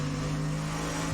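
Race car engine driving hard up a steep mountain course, a loud steady drone with strong low tonal hum sustained throughout, close and continuous with no talking.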